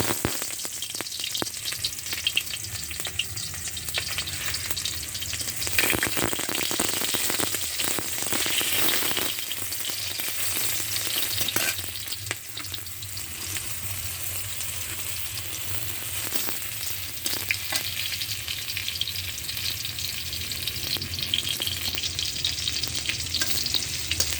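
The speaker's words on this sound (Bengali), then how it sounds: "কড়াইতে তেল দিয়েছি, একটা পেঁয়াজ কুচি দেবো।" Chopped onion fries in oil in a wok, giving a steady close sizzle with bursts of stirring and scraping at intervals.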